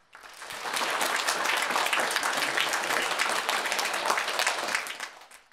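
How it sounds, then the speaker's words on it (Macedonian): An audience at a community event in Skopje breaks into dense, sustained applause that swells quickly, holds steady for several seconds, then fades out near the end. "Да ги поддржиме со еден аплауз."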